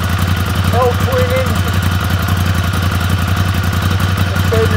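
A Ducati Monster 796 with an air-cooled Desmodromic L-twin engine idles nearby, a loud, steady throbbing chug with a fast regular pulse, while a person talks briefly over it.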